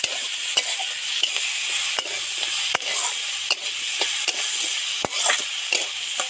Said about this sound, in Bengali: একটুখানি এবার নেড়ে চেড়ে ভালো করে মিশিয়ে দেবো